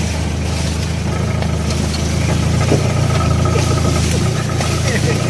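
A low, steady tractor engine idles throughout with a constant rumble, close by, with faint voices and outdoor noise mixed in.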